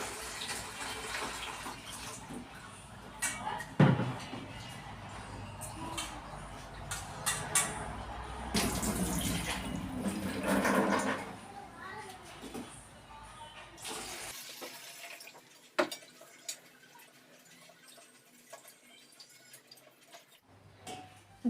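Water is poured and splashed over moong dal as it is rinsed repeatedly in a kitchen, with uneven bursts of sloshing and dripping that are fairly close. The sound drops to quieter trickles near the end.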